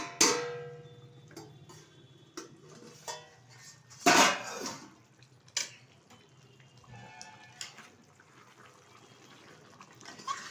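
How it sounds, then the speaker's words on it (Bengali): A steel plate lid is lifted off a pot of spicy yogurt chicken curry cooking on low heat, giving one sharp metallic clank among a few lighter clicks and taps, with no one talking. "30 মিনিট বাদে ঢাকনাটা তুলে দিচ্ছি"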